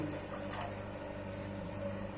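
Water is poured into a pan of milk-soaked semolina for halwa, giving a steady, close splashing trickle throughout.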